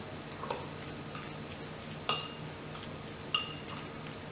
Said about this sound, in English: I'm just gonna stir everything together.